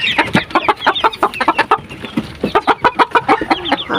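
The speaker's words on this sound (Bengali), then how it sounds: "ফার্মি মুরগ করে কেমন দেখেন" Farm-raised broiler chickens cluck close by in a rapid, busy series of short, loud calls, many birds overlapping in an uneven rhythm with brief pauses.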